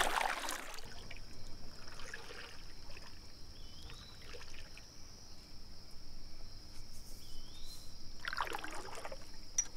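Canoe paddle dipping into water on a solo canoe camping trip in the rain, a few soft splashes and drips spaced several seconds apart over a quiet background with a steady insect-like tone.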